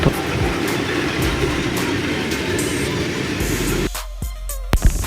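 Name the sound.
train passing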